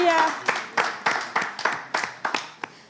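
Brief audience applause after a call to clap, with a first burst of clapping followed by a run of about seven separate sharp claps at roughly half-second intervals, fairly faint, with no one talking.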